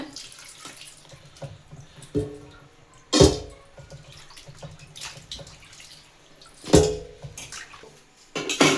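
Water sloshes and splashes in a vessel as something is swished and rinsed, with intermittent louder pours and drips, no voices.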